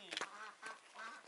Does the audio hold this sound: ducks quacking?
yes